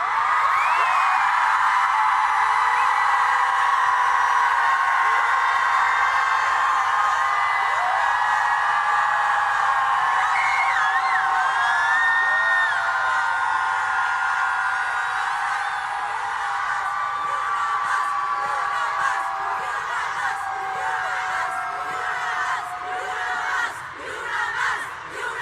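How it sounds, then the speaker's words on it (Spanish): A large crowd of women at a protest shouting loudly together in sustained unison, a dense roaring chant that holds steady and then breaks into scattered cries near the end. "vamos a gritar fuerte para que nos escuche el presidente y nos escuchen en todo el mundo"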